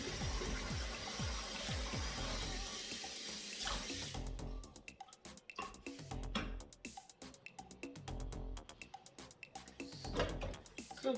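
Tomatoes and peppers are washed by hand in a bowl of water, starting with a steady running-tap rush, then shifting to choppy splashes and sloshing, close and fairly quiet.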